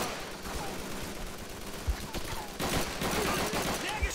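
Bursts of video-game gunfire from Call of Duty 3, a World War II shooter, crackle in a dense battle mix with sharp individual shots near the middle and end, rising louder in the second half.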